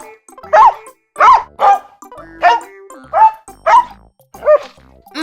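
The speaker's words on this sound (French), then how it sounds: "Le chien aboie." A dog barks about seven times in a loose, uneven rhythm, each bark loud and close with clear silences between them.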